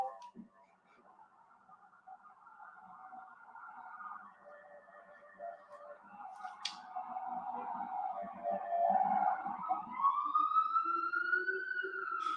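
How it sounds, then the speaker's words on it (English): A police siren wails in the distance outside, rising and swelling louder over several seconds before sweeping up into a higher tone. "you're going to hear sirens all the time"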